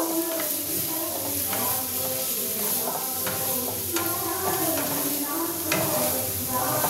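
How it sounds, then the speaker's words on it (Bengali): Chopped garlic sizzles steadily in a hot pan, a continuous crackling hiss punctuated by periodic scrapes of a spatula stirring. "রসুনটা একটুখানি ভালো করে আমি একটু ভেজে নেব"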